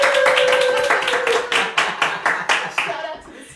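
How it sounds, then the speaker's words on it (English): A small studio audience claps in a quick run of loud, rhythmic claps on the set of a vegan cooking show, with a brief tone at the start and a voice underneath. "We do have a little studio audience. Y'all can't see them, but we're going to just clap."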